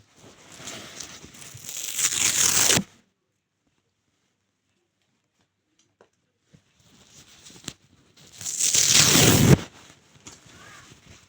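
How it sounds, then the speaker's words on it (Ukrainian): Stickers are peeled off a surface in two separate bursts of crackling, tearing noise, each lasting about two seconds and separated by near silence, close and fairly loud. "я буду знімати оці наліпки"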